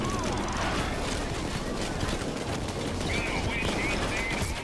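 Sustained minigun fire in PAYDAY, a dense continuous roar that runs unbroken and loud throughout, with other game noise layered in.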